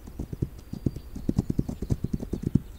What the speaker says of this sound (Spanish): Y los caballos corren infinito.